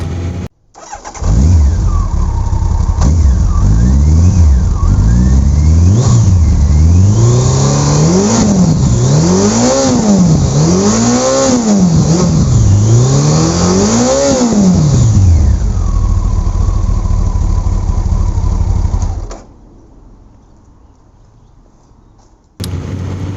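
A Honda CBR 1100XX Super Blackbird motorcycle fitted with twin 350 mm Delkevic carbon silencers starts up close and loud. It is blipped through a series of about seven rising and falling revs, then settles and shuts off.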